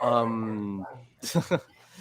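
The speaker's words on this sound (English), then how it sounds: "Oh my God, that loud ass dog." A loud dog barks close by in a few sharp bursts, right after a stretch of speech, with talking continuing around it.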